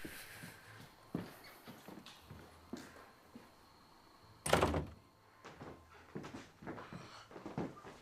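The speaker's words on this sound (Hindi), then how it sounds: "बस दरवाजा बंद कर देना" In a movie scene, a door is pushed shut with one loud, heavy thunk midway, surrounded by softer footsteps and small knocks in a quiet room.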